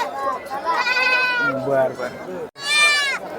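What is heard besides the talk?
goats and sheep bleating at livestock market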